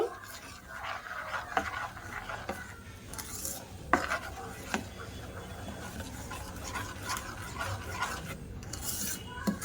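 Baking powder being mixed by hand into spicy chitoi pitha batter in a bowl, a run of soft rasping, scraping strokes and occasional light clinks of the utensil against the bowl, close and fairly quiet, with no talk.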